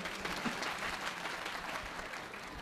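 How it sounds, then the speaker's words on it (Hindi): An audience at a Hindi comic poetry gathering held at an ashram applauds with steady, dense clapping that carries on evenly throughout. "आपकी आंखों में शर्म और हाथों में कुछ शक्ति बची हो तो कुछ तालियां इस ब्राह्मण के लिए भी बजा"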